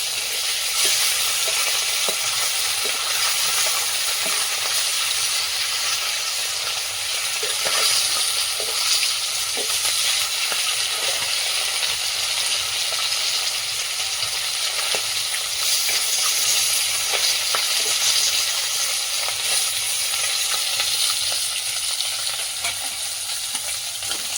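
Loud, steady sizzling of parshe fish frying in hot oil in a pan fills the clip, with occasional pops and crackles and no voices.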